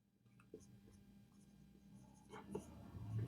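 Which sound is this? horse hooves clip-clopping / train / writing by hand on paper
writing by hand on paper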